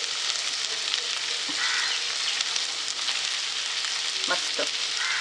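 Squid (makla) sizzles steadily in a pan, a dense continuous crackle and hiss with a few faint clicks of movement, no voices.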